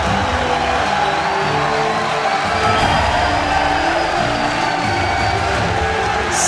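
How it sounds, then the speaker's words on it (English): A large crowd at a League of Legends regional match rises in a standing ovation, a dense continuous roar of cheering and clapping that stays loud and steady throughout, with scattered whoops. "Standing ovation from the majority of the crowd here."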